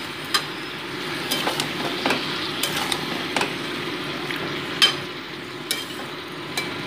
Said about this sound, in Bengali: ভালো মতো নুন হলুদ দিয়েছে আমি সবজির সাথে মিশিয়ে নিচ্ছি।